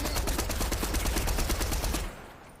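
Rapid gunfire in Fortnite, a fast string of sharp evenly spaced shots for about two seconds before it stops abruptly and leaves quiet.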